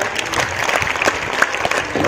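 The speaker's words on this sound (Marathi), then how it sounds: "6वीच्या मुलांसाठी अजून एकदा जोरदार टाळ्या" A short burst of clapping from a group of schoolchildren at a math quiz competition, brisk and close, lasting a couple of seconds.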